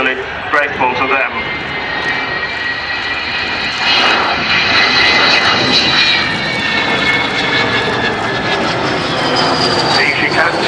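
The four jet engines of the Avro Vulcan XH558 bomber roar loudly and steadily during a flying display at RAF Waddington, a broad sustained rumble with rising whine tones, while a commentator talks over it.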